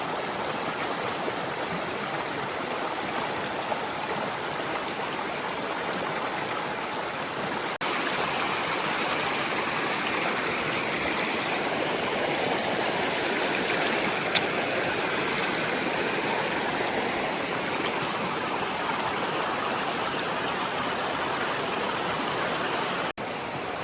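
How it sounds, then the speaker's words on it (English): The Whitewater River rushes past a trail crossing on the Pacific Crest Trail, a continuous broad roar of flowing water, close and steady for the whole stretch with no voices. "Just crossed the Whitewater River."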